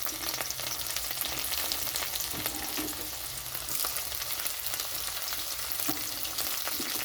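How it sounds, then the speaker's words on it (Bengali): Garlic sizzles in hot mustard oil in a pan, a close, steady crackling hiss with occasional stirring scrapes and pops, no voices. "সর্ষের তেলটা গরম হয়ে গেছে তো এখানে আমি রসুনটা দিয়ে দিচ্ছি"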